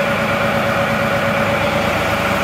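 A loader's diesel engine idling at about 1,000 RPM, a steady loud low rumble with a constant droning hum and vibration, close by and unchanging throughout.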